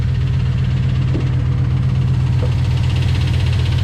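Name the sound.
lifter noise from Dodge engine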